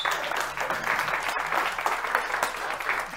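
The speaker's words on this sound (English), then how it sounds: "Give yourselves a round of applause." Crowd applause from a live podcast audience, a short, fairly steady patter of clapping with no voices on top.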